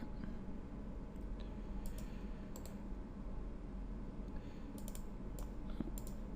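A computer mouse clicks faintly in a quiet room: a few short, sharp clicks, some in quick pairs like double clicks, spaced over a low steady hum.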